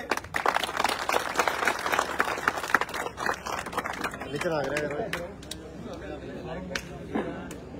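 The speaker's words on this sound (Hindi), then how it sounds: "जोरदार तालियों से" A crowd applauds at a village welcome ceremony for a politician, with busy clapping through the first half that thins out while voices talk and call over it.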